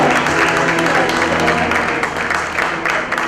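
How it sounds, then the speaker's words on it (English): A crowd at a philanthropy awards night in Bengaluru applauds in a dense, steady wash for about three seconds, with a low steady hum running underneath. "a big round of applause for Usha Baraga"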